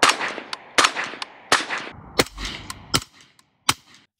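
Suppressed rifle shots through a Print-XH full-size titanium 5.56 suppressor, five or six sharp cracks spaced roughly a second apart, each with a short ringing tail, fairly close with quiet gaps between.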